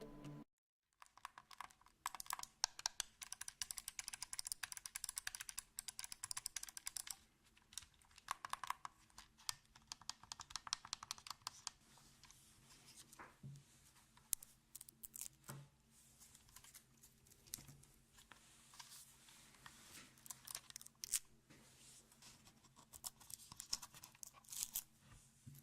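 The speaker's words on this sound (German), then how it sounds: "wenn ich auf die Taste klicke und noch die Folie abziehe" Button clicks on a Razer Raiju PS4 controller followed by protective film being peeled off, with crisp, close clicking and extended crackling, tearing rustle that is loud early on, then scattered softer clicks and crinkles.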